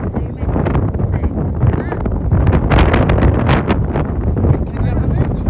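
Strong wind buffets the microphone on a coastal walk in Newquay, a loud, continuous gusting roar with people talking under it.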